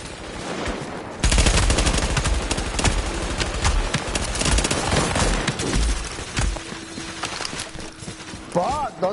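Video game gunfire rattles in fast automatic bursts that start abruptly and keep going, loud and dense, while players talk over the shooting.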